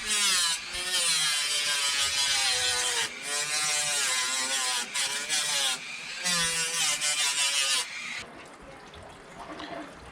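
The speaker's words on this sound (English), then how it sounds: "Do some sanding." A Dremel flex shaft with a Kutzall burr sands a carved wood spirit face, giving a continuous high whining buzz that runs in long bursts, briefly cutting out between passes before stopping near the end.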